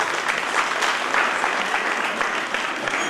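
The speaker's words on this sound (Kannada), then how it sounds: "ಅವರಿಗೆ ಎಲ್ಲರಿಗೂ ನೀವು ಒಂದು ಜೋರಾದ ಚಪ್ಪಾಳೆಯನ್ನು ತಟ್ಟಬೇಕಾಗಿ ವಿನಂತಿ" Sustained applause from an audience at a music and folk arts event in Dharwad, dense steady clapping from many hands at even loudness throughout, without voices over it.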